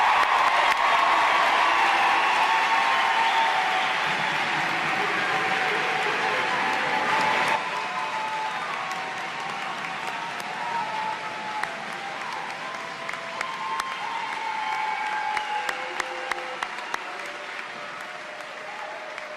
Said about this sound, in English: let's give one more round of applause to our graduates of 2023